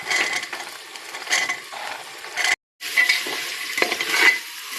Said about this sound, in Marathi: आता इथे पावटा टाकून घेते.